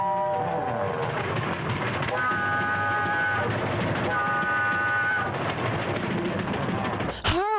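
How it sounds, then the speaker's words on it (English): A train approaching on the rails, a loud rumbling and clattering roar with tonal squeals, ending in a sharp rising sweep, heard up close and continuous throughout. "The dog hears a train."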